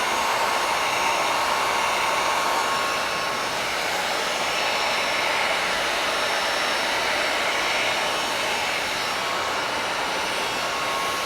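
A heat gun blows a loud, steady stream of hot air on heat shrink tubing, a constant close-up roar with no breaks and no voices.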